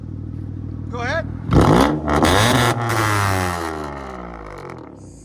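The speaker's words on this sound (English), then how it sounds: "I'll let you guys hear it close up." Loud Acura exhaust revved hard close up, a sharp blip then a sustained roaring rev that slowly falls away, with a short voice heard just before it.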